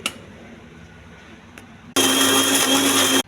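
A kitchen blender grinds cumin, coconut and tomato into a paste. After a quiet stretch it starts abruptly, then a loud, steady whirring roar runs unbroken until it cuts off at the end.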